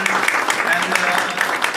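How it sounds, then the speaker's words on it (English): Applause for a company CEO at a business leaders' club event, a steady dense wash of clapping from an audience filling the short moment without pause. "round of applause for CEO House"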